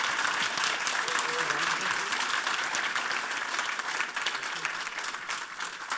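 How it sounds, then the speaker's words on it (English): A conference audience applauds after a talk on penetration testing, a dense, even round of clapping that fades slightly toward the end. "Can I have another round of applause for James 1 and James 2?"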